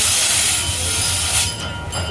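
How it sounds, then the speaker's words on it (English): Steam hisses loudly and continuously as a steam locomotive's cylinder drain cocks are opened on a cold start on a Christmas train ride, a broad roaring blast close by with no talking. "So he's going to take the cylinder drain."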